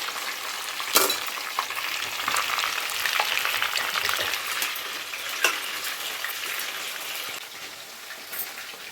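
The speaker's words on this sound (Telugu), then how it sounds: "చికెన్ అయితే మంచిగా ఫ్రై అవుతుందండి" Chicken frying in a pan crackles and sizzles continuously at close range, with a few sharp pops, and no one speaks.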